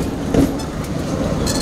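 Tram number 3 running along newly laid rails, a steady low rumble with faint rail rattle throughout, close and continuous.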